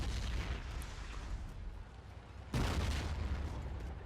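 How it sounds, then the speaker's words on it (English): A loud grenade explosion booms abruptly midway through a Battlefield 1942 battle, and its heavy rumble carries on over a background of distant combat noise. "I killed it with a grenade."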